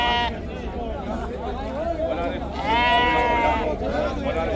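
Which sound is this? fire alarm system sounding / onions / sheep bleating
sheep bleating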